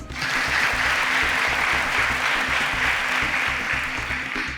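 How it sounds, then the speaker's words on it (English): A studio audience at a televised quiz competition applauds, with steady, full clapping that holds at an even level throughout, alone without talk. "A round of applause for them."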